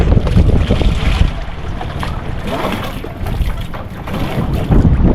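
A boat engine rumbles steadily, its low drone blended with gusty wind buffeting the microphone and a faint wash of water.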